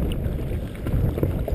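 Paddling a Sea Eagle FastTrack 385ft inflatable kayak across Setauket Bay against an incoming tide: a steady low wash of water and wind rumble, with soft paddle splashes throughout and no voices.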